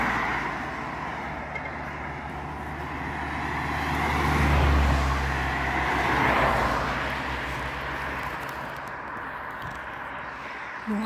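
School buses and private cars pass along a road during morning office hours, a steady roar of traffic with a louder vehicle sweeping by near the middle and another soon after, continuous throughout.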